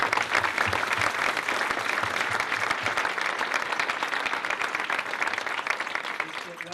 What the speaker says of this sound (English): if we could give an amazing round of applause